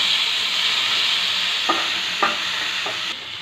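Chopped tomato and small shallots fry in a pan with a steady bright sizzle, broken by three short scrapes of a stirring spoon near the end.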